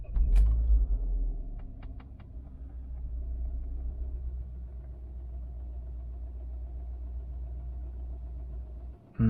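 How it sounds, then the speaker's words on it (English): A part-exchange car sits at idle after an initial loud start-up burst, settling into a steady low engine rumble with faint light ticking over it, running close and continuous until a sudden thump at the end. "Sounds a little tappety to me as well."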